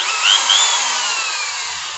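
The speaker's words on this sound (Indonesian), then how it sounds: "Jadi kita langsung saja bor." Power drill boring into a pre-marked spot, a steady high-pitched whine held close and loud for the full two seconds with a slight rising pitch sweep near the start.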